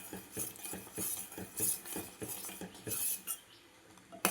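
A spoon stirs Pasipparupu payasam with cardamom in a pot, scraping and clinking against the metal in a steady rhythm of strokes, close by, with no talking.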